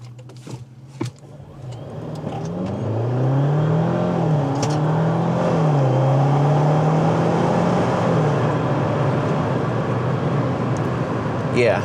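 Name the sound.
2025 Jeep Wrangler Willys 4xe turbocharged 4-cylinder accelerating from standstill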